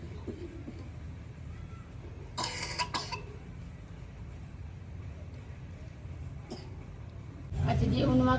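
A child whose fever has passed but whose cough lingers, in a village home in the evening: two sharp coughs close together, with a single further cough later and a louder rumble of background noise at the end.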